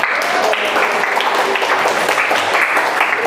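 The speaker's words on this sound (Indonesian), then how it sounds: "tepuk tangan untuk semuanya." Applause from a youth psychology training audience in a hall, a steady dense wash of clapping at close range throughout, with no talk over it.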